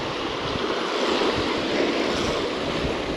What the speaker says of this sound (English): rather annoyingly the wind's picked back up